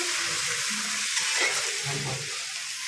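Onion and ginger-garlic paste frying in a pan for a homestyle egg and potato curry, a continuous close hiss of sizzling oil with soft stirring underneath.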